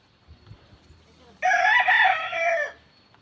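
A single loud rooster crow rings out for over a second, fairly close, against an otherwise quiet background.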